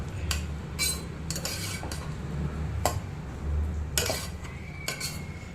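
Grated coconut being stirred into a curry in a pot, with a spoon clinking and scraping against the metal in irregular bursts over a low steady background hum, close and moderate in level.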